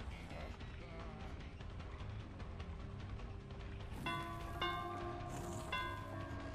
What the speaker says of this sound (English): Ring the bell. That way he knows I'm coming for him.